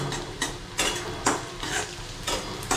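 Onion fries in a pan until light red, giving a steady soft sizzle broken by regular scraping strokes of a spatula against the pan, about every half second, close and moderately quiet.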